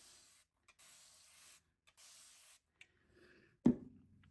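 Several quick hissing bursts from a spray bottle misting watercolor paints in a rhythmic series, followed by a soft tap and faint rustling.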